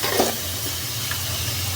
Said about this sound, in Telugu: మధ్య మధ్యలో ఇలా కలుపుకుంటూ ఫ్రై చేసుకోవాలి.